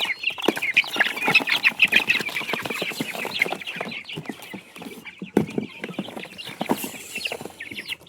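A crowd of Siruvidai and Peruvidai country chicken chicks, held in boxes, chirp nonstop in dense, overlapping high peeps that stay loud and close with no talking.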